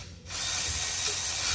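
A Milwaukee power ratchet drives bolts on a Volkswagen Touareg, giving a steady, close, buzzing whir that starts after a brief quiet moment and runs to the end.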